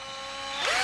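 Cordless screwdriver drill running on a rebuilt 11 V battery pack, its variable-speed trigger squeezed lightly: a steady high motor whine heard up close that rises in pitch as it speeds up.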